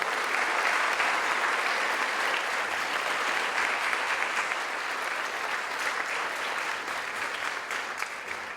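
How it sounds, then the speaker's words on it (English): An audience at a 9/11 ceremony at a high school gives a loud, sustained round of applause that fades slightly toward the end, with no voices rising above the clapping. "Let's give them a round of applause."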